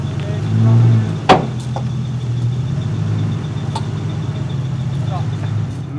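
Toyota Supra rolling slowly onto a trailer, a low steady engine rumble with a brief louder swell early on and a sharp knock or thud, voices talking faintly over the drone.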